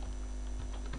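A few light computer-keyboard key taps, sparse and soft, sitting over a steady low electrical hum at a desk.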